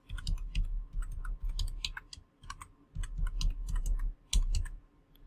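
A password being typed on a computer keyboard, with quick irregular bursts of key clicks and short pauses between runs, close and clear, with no talking.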